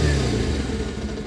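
Bajaj Pulsar 125 BS6 motorcycle engine running steadily at close range just after starting, a loud low rumble with light mechanical clatter throughout, no talking.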